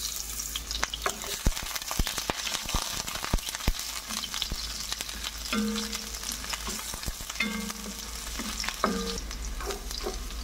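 Garlic and onion sauté in a pan, a dense crackling sizzle running throughout with frequent sharp clicks and spatula scrapes, close and fairly loud, with no voices.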